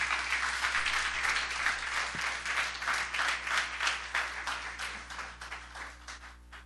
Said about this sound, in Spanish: Un aplauso fuerte al Rey